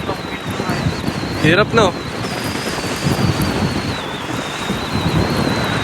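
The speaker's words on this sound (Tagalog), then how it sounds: "Malakas po yung hangin talaga dito" Strong wind roars across an outdoor fishing spot and buffets the microphone in heavy, uneven gusts. Voices talk over the wind, and a thin high whistle-like tone runs through it.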